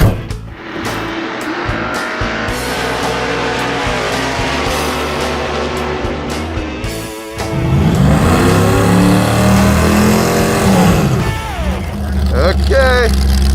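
The Mazdarati drag car launches off the line on nitrous, its engine roaring loud and close with a revving climb, then a harder, rising surge as it pulls away.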